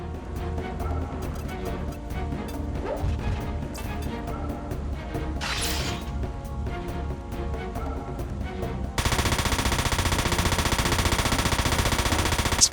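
Rapid machine-gun bursts and explosive impacts from a mech battle in the PS2 game Front Mission 4 rattle on continuously, growing denser and louder in the final few seconds.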